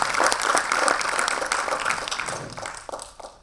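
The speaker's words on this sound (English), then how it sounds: "please help me in giving another round of applause to the entrepreneurs" Conference audience at a sustainability and circular economy event in Africa applauding entrepreneurs, a full, bright round of clapping that peaks early and gradually thins toward the end.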